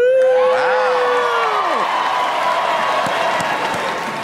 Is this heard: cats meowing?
no